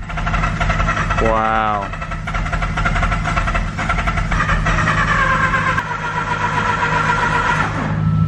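A Mazda RX-8 R3 rotary engine, bought as a flooded salvage car, cranks with a brief rising starter whine, then catches and runs at a rough, loud idle, while a person talks close by.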